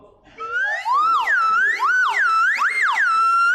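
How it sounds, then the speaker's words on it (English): A slide penny whistle glides up and down in pitch over and over, swooping smoothly between low and high notes like a siren, loud and close, with no talking. "So how about a penny whistle?"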